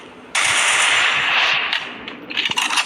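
In a shooting video game, a loud, rapid burst of automatic gunfire rattles for about two seconds, followed by a few scattered, sharper shots.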